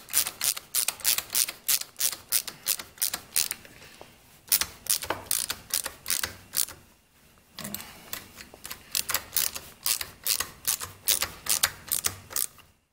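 A screwdriver tightens the carburetor plate screws on a Homelite Super 2 chainsaw, making close, crisp ratcheting clicks in quick bursts of about a dozen, with short pauses between runs.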